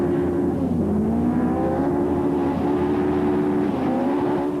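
A brand-new 2-litre Daewoo Cielo rally car drives a gravel rally stage on the 1997 Autumn Trail, its engine loud and close, droning steadily with small rises and dips in pitch through the gears.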